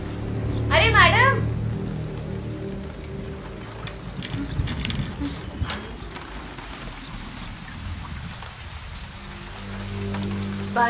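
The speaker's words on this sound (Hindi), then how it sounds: "बारिश हो रही है." Rain falls steadily outdoors, a continuous patter on surfaces near the listener, with a brief rattling mechanism early on and voices talking over it.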